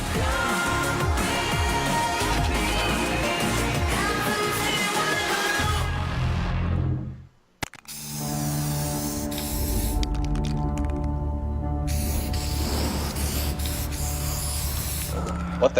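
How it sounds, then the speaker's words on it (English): A spray can painting a birdcage over a picture of a bird gives loud, sustained hissing bursts with brief breaks between them. They follow a stretch of music that fades out into a low hum. "He's spray painting a bird cage over top of a picture of a bird."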